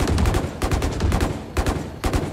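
Rapid bursts of gunfire from the Valorant shooter game, loud and close, coming in several clustered volleys with short gaps between them.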